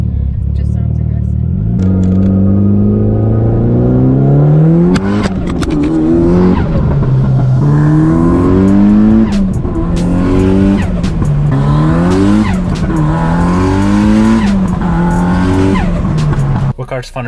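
A Mitsubishi Lancer Evolution VIII engine revs loudly and repeatedly, pitch climbing and dropping in rhythmic surges, close and aggressive, with brief crackles between pulls.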